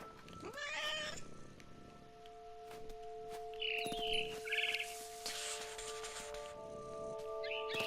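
In the video game What Remains of Edith Finch, a cat meows several times, soft and close, over a quiet game backdrop with faint bird chirps.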